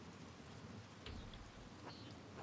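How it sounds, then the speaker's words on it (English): Steady rain in a medieval village in the video game Pentiment, a constant hiss of falling rain with low rumbling underneath and a couple of faint higher tones, loud and continuous throughout. "The rain is turning everything to mud."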